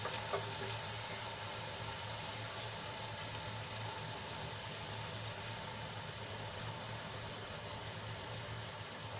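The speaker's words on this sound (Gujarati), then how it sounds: "મસાલો સરસ રીતે ભીંડામાં આપણે મિક્સ કરી લઈશું ગેસની આંચ આપણે ધીમી રાખી છે" Okra cooking in a pan over a low gas flame as spice masala is mixed through, giving a steady, close, even sizzle with a faint low hum underneath for the whole stretch.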